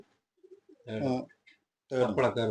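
Racing pigeons in a loft give a few soft, low coos amid quiet pauses, while people talk nearby.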